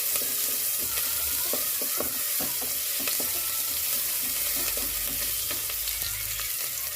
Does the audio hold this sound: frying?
yes